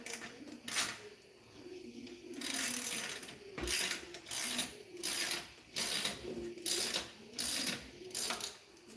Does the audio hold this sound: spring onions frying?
no